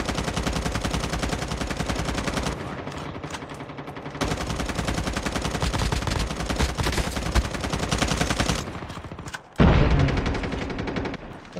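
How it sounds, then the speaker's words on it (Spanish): Dense gunfire in a squad-based shooter video game, continuous rapid automatic bursts and loud shots packed nearly wall to wall, with a brief pause near the end before the firing resumes. "Dispara de todo, dispara."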